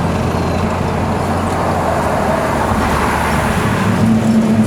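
A 1993 Ford Escort RS Cosworth drives along, its engine a steady low drone with road and tyre rumble heard from inside the car, without any clear rise in revs and with no talk.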